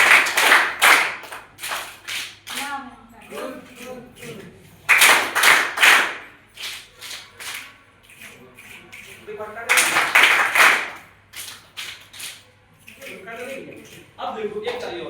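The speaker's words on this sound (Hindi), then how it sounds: "अब देखो एक ताली और प्लीज।" An audience at a teacher training session in Amraudha, Kanpur Dehat claps in three short, loud bursts, with someone speaking between them.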